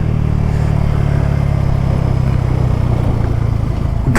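A motorcycle rides a high mountain road in Ladakh, its engine droning steadily with continuous wind rush and road noise close to the mic, never easing off.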